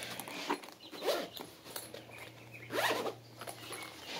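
A zipper pulled closed on a case holding an Electro-Voice RE320 studio microphone, several short rasping zip strokes at close range in a quiet room.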